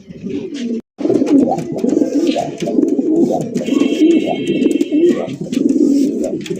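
Gola giribaz racing pigeons coo in repeated soft throaty phrases, close and steady, with a brief silent gap near the start and faint background noise.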